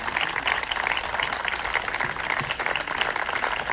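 Sustained applause from a large audience at an arts awards ceremony honoring awardees, dense steady clapping throughout with no voices on top.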